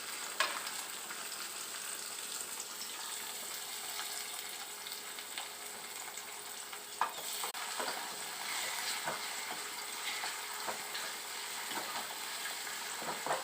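Tomato and green chilli fry in a pan for Maggi noodles, a soft, steady sizzle with light stirring taps and a few small pops, fairly quiet and unaccompanied by voices.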